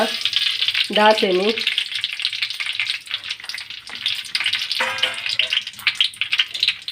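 Mustard seeds crackle and spit in hot oil, a dense continuous sizzle with bright popping throughout, close up, with a couple of brief sung or spoken voice snippets over it.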